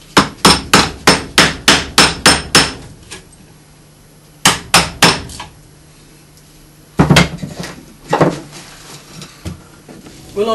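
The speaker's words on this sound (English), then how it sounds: "then drill in and cut out with a mortise chisel" A mortise chisel is hammered into a yew Windsor chair seat: a fast run of loud, sharp knocks up close, a pause, then further strikes in shorter groups.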